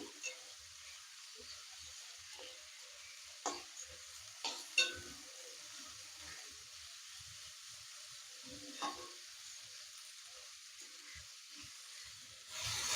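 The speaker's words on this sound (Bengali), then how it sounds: "দুটো সবজিকে আমি একটু ভাজা ভাজা করে তারপরে ক্যাপসিকামটা দিয়ে দেবো" Vegetables, potato among them, stir-fried in a pan, a soft steady sizzle running throughout with occasional scrapes and clacks of a spatula, fairly quiet and close, with no talk.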